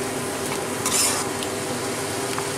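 Spice masala for a Bengali steamed egg curry sautéing in oil in a pan, with a steady close sizzle, a brief brighter burst of frying and faint stirring scrapes, no voices.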